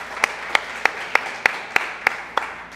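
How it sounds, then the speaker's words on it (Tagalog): Hand claps at a Sunday church worship service: eight sharp, evenly spaced claps about a third of a second apart in a steady unison rhythm, over faint room noise. "Isa pong malakas sa palakpak para po sa ating Diyos."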